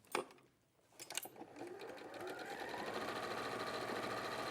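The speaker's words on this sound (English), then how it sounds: "And I'm going to sew this one on." A sewing machine stitching on a strip of fabric for a quilt block, a couple of clicks and a pause, then the motor speeds up into a fast, steady whirring hum that runs to the end.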